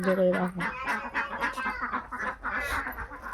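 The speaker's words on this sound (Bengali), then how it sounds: "দেখেছো কত হাঁস" A flock of ducks and geese quacks and honks in a steady, overlapping chorus at close range. Voices are faintly mixed in beneath the birds.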